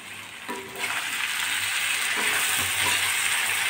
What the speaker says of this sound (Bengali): ধুয়ে কেটে রাখা টমেটো কুচি দিয়ে দিলাম।